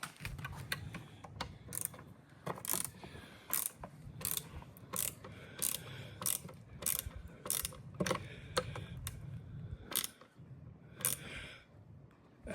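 A small ratchet clicks quietly and close up while tightening hardware on a kitchen island, giving irregular bursts of sharp pawl ticks with short pauses between.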